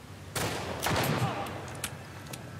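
Gunfire in The Last of Us remake comes as several sharp shots in quick bursts, loud and close, then fading to isolated cracks; a voice talks intermittently underneath.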